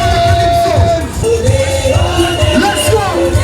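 A crowd gathers at a Caribbean carnival parade on a London street, a loud continuous hubbub with low rumbling and scattered voices and shouts close by.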